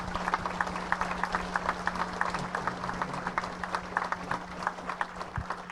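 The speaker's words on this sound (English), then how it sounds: "Let's give these guys a round of applause for everything they do for us." Audience applause at a sprint car hall of fame induction ceremony, a steady patter of clapping from a room of people running for several seconds at moderate level, with a constant low hum underneath.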